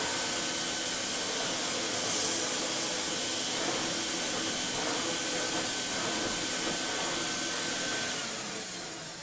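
A Vax 6130SX vacuum cleaner runs on a lower suction setting, giving a steady, close airy whoosh that holds level for about nine seconds before tapering slightly at the end.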